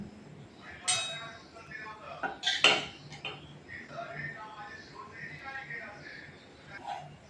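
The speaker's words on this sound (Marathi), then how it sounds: "आता आपण प्लेट तयार करू" Food is served onto a plate from home-cooked dishes of dal, leafy vegetable curry, rice, chapati and salad, with a few close clinks of utensils on dishes at the start, followed by a voice talking that continues to the end.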